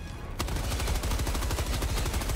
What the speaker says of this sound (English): Did they buff the machine gun?